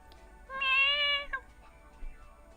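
A voice imitates a cat's meow with a single drawn-out, tonal mew lasting under a second, close and fairly quiet, followed by faint breathy sounds and low room noise.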